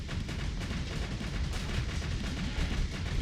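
Ballistic cannons fire continuously in a Starsector space battle, a dense, rumbling barrage of rapid impacts that fills the whole stretch without pause.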